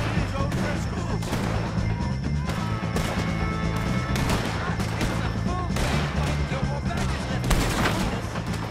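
Rapid gunfire rings out during a shootout with O'Driscoll gang members in the Western game Red Dead Redemption 2, a dense string of sharp, loud shots and cracks with a shouting voice and battle noise underneath.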